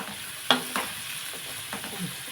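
Onions frying in a pan for an egg and dried-fish curry give a soft, steady sizzle, with one sharp utensil clink near the start and a few lighter scrapes later.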